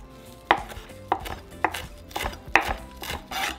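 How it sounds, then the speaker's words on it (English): A kitchen knife chops cilantro and onion on a cutting board, with about six sharp, evenly spaced knocks over a faint background rustle. "now we're going to chop our cilantro and our other half of onion"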